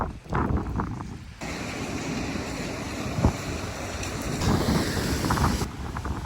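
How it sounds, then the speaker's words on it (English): Strong wind buffets the microphone at Gibraltar airport, a loud, continuous roar with gusty swells that rise and fall across the whole stretch, with no talking. "It's very windy."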